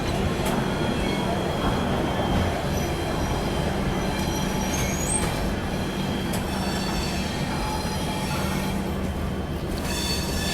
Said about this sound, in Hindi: सोमनाथ एक्सप्रेस डीजल लोकोमोटिव के साथ